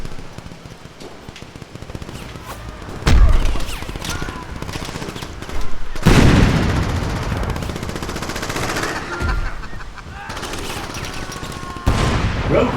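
Weapon gunfire in the Crackdown video game on Xbox Series X, loud rapid bursts of automatic fire with heavy booming impacts at intervals, close and intense, under scattered in-game sounds.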